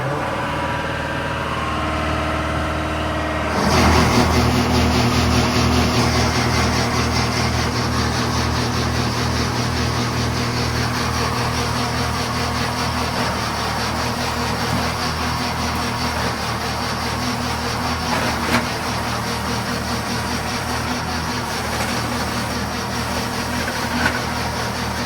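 A John Deere 5R tractor engine runs steadily from inside the cab, rising abruptly a few seconds in and then holding a constant mid-low hum for the rest.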